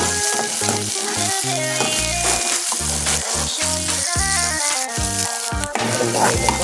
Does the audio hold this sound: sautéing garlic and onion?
yes